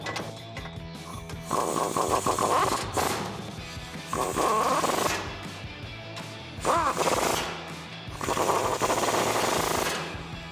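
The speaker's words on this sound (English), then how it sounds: "So now we can take a 17mm socket and tighten those up." Four loud bursts of rattling impact-wrench chatter on 17mm bolts, each lasting about a second, separated by short pauses, while installing a lift kit near the front differential of a 2005-2021 Toyota Tacoma 4WD.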